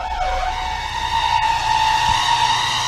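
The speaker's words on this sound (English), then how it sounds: "Customer states, my vehicle sounds like an elephant" A vehicle makes a loud, sustained, high-pitched squealing whine with a brief swoop at the start, trumpeting steadily like an elephant throughout.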